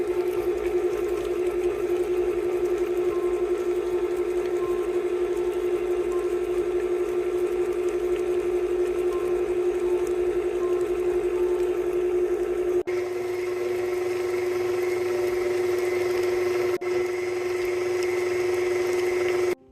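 A stand mixer hums steadily, close and constant, while it mixes a room-temperature egg into butter and sugar for cookie dough, with two brief shifts in its tone partway through.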